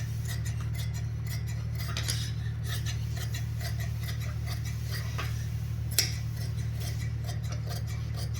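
Scissors snip through lehenga lining fabric in a steady run of small crisp ticks and clicks, close by, over a constant low electrical hum, with no talking.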